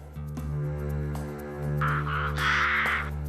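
Ravens, black members of the crow family, give a few harsh caws at moderate distance over a steady low hum, with the loudest calls near the end.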